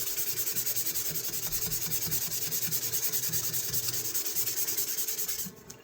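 A knife blade being rubbed clean along its length, probably to work off rust: steady rhythmic scraping strokes, close and fairly loud, running continuously until it stops near the end.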